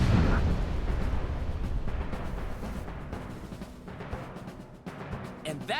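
A bomb explodes in AI: The Somnium Files – Nirvana Initiative, a heavy blast that opens loud and tails off into a rumbling, crackling decay, with sharper debris pops near the end.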